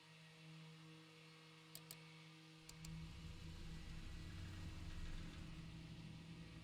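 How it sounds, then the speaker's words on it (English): The left engine of a Breitling DC-3 airliner starts: a low, distant hum with a couple of faint clicks, then the engine catches partway through and settles into a steady, rumbling idle. "so we're gonna turn on left engine first."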